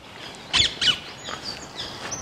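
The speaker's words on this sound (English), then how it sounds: "There's a lot of birds." Birdsong in woodland, two bright chirping bursts close together near the start, then fainter scattered calls over quiet background, no talking.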